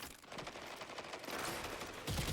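Osteo Striga fire in a shooter game comes as a quick rattling volley of shots, steady and fairly faint, with a heavier burst at the end.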